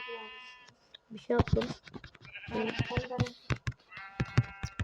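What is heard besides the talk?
sheep bleating in Minecraft video game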